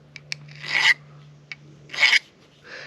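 A small metal file rasps across a 3/8 quick connect fitting to remove a burr, two close scraping strokes with light taps between them under a faint steady hum.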